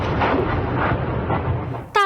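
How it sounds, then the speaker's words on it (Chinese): Heavy blast and rumble from a Ukrainian drone strike on a building in Voronezh, Russia: a loud, sustained broadband roar filling the whole stretch, with a brief sharper sound at the very end. "俄罗斯西南部城市沃罗涅日传来爆炸巨响"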